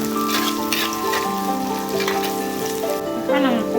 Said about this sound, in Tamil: இதிலே ஒரு கை தக்காளி போட்டு நம்ம வதக்கிடலாம்.